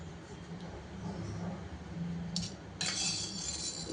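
A small mixer jar and kitchen utensils clink and rattle against each other in a home kitchen while dhamki tamatar is being prepared, faint scattered contacts over a low steady background hum.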